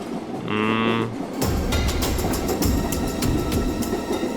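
A moving passenger train rattles and clacks loudly with rhythmic wheel beats, right after a brief tonal horn-like sound.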